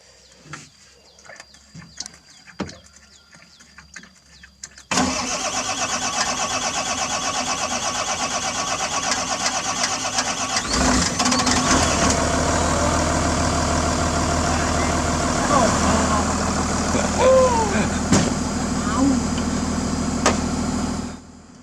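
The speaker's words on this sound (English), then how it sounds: "One final long crank. The Volvo diesel roars back to life." A Volvo 20-ton excavator's diesel engine cranks, then catches and roars into a loud, steady running rumble that lasts for the rest of the stretch after a quiet opening with scattered knocks on a job site.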